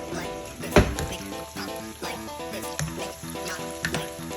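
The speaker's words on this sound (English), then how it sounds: "we got Spam cooking" Spam fries on high heat in a pan beside cooking noodles, a steady close sizzle with a sharp knock and scattered scrapes and clatters of utensils.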